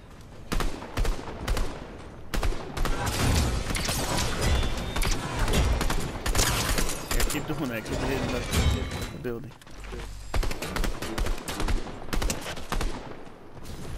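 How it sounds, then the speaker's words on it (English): Rapid bursts from an Avenger gun in a Fortnite Chapter 5 match, loud clattering automatic fire in repeated volleys with brief gaps, mixed with other game effects while players talk over it. "I hear an Avenger"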